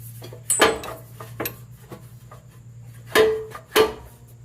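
A steel oil pan knocks and scrapes against metal while being worked into place under a 2004 Jeep Grand Cherokee WJ, with several sharp clanks spread out over a low steady hum.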